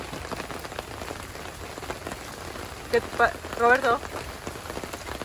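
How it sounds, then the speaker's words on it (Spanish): Light rain at a campground at Ginnie Springs falls steadily on surfaces nearby as a soft, continuous patter, with a few people talking briefly over it. "Un poquito de lluvia, solo un poquito."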